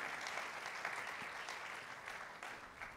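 Congregation applauding at a church graduation ceremony in Canada, a continuous crowd of clapping hands with scattered sharper claps, fairly faint and distant, with no voices on top.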